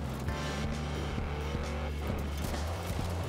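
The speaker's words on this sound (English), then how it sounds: "Sounds like a Dodge Charger." A car engine in the racing game Forza Horizon 4 drones with a deep, continuous rumble, shifting pitch slightly as it drives, loud and steady without breaks.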